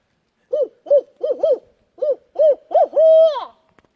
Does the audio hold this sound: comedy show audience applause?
no